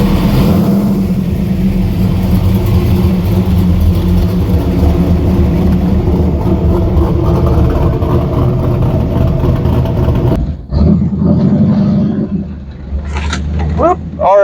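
A CNC LT4 Camaro pulls away with a loud, continuous engine drone that holds steady, then drops off abruptly before picking back up with sharper revving bursts toward the end.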